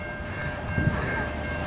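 An empty CSX double-stack freight train passes eastbound, a steady continuous rumble and rail roar with a brief louder swell midway and no voices.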